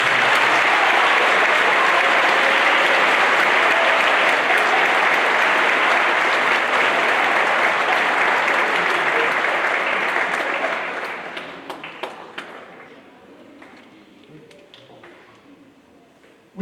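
An audience applauds 8th grade band soloists at a school concert, a loud, dense burst of clapping that holds steady for several seconds, then thins out into scattered claps and fades away.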